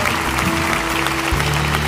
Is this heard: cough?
no